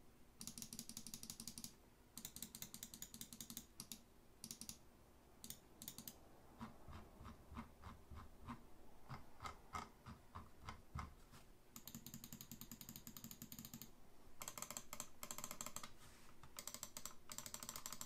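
A Glorious Model D gaming mouse gives sharp, quick button clicks in bursts and single taps. They are faint and close, separated by short pauses, and no one speaks.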